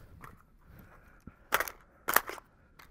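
Two sharp gunshots about half a second apart during a shooting drill, close and loud against a quiet background.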